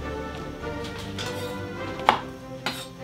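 A knife chops washed, brushed mushrooms roughly on a board, giving a few soft, close cuts and two sharper knocks against a steady low background.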